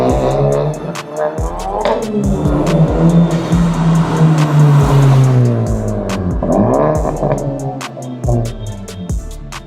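Honda Civic Type R FL5 driving past at speed, its engine note rising and falling through quick gearshifts, loud and near with a whooshing flyby in the middle.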